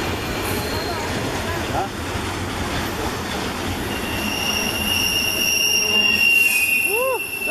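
A fast train roars past close by in a steep wooded stretch near Yale, British Columbia, loud and sustained, with high metallic wheel squeal rising toward the end and faint voices in the background.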